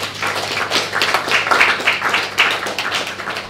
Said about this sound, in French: il faut juste applaudir un peu